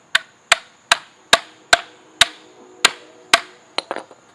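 Hammer strikes break pieces apart during a mailbox post build: about ten sharp, ringing knocks in a steady rhythm, loud and close, the last few quicker and lighter.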